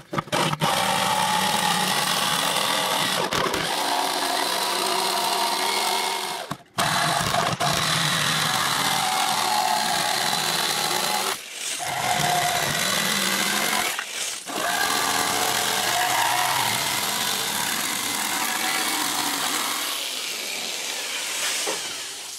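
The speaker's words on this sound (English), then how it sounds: "my handy dandy Black & Decker jigsaw here, we'll take it and we will take it and give it a cutout" A Black & Decker jigsaw cuts out plywood with a loud, steady buzzing roar that runs nearly unbroken. A few brief pauses come where the blade stops and restarts, and there is no talking.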